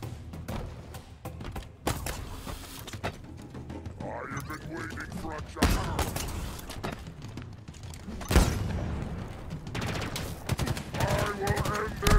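Gunfire in the Halo campaign on legendary difficulty, with steady bursts of weapon fire and explosive thumps filling the whole stretch, loud and continuous, while a player talks over the game sounds.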